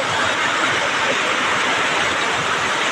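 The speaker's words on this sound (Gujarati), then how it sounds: "જોરદાર વરસાદ છે" Heavy rain pours over the Rajkot market yard, a dense, unbroken roar of hissing downpour, loud and close, with faint voices nearly swallowed beneath it.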